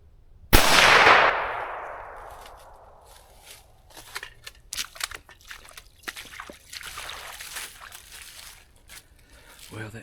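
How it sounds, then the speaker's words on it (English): A single loud crack from a 17 HMR rifle fired outdoors, with a sharp onset and a ringing tail that fades over about a second, followed by quiet rustling and handling noises. "Get out here and shoot this to make sure that my gun is still on."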